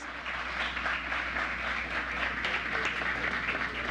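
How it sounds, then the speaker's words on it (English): Audience at an outdoor commissioning ceremony for a road interchange, clapping in a steady, fairly faint wash of many hands over a low background hum. "I think that in itself deserves a round of applause."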